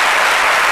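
Audience applause at a televised talk show, a dense, loud wash of clapping that runs without a break through the short moment.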